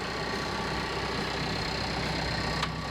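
A tractor engine idles steadily at close range, a constant low rumble with a faint mechanical hum and no voices over it.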